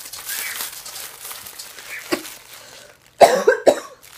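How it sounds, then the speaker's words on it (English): A few sharp coughs from a person with a cold burst out near the end after a stretch of quiet, faint rustling; close and fairly loud. "I'm getting a cough now."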